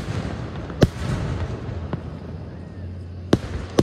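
Fireworks burst over Bessemer City, North Carolina, with a few scattered, sharp distant bangs over a steady outdoor crowd murmur and background hiss.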